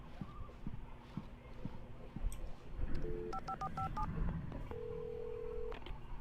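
Electronic phone keypad tones beep in a quick series of short dialing notes, followed by a longer tone, over low background noise and footsteps, in the video game Alan Wake.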